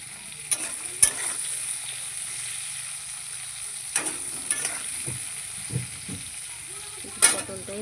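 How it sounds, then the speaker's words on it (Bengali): Pointed gourd (potol) frying in a pan, a steady soft sizzle with occasional sharp clinks and scrapes of stirring, close up and mostly alone without talk. "শুধু পটলটাই ভাজবো। পটল আমার ভাজা প্রায় হয়ে গেছে।"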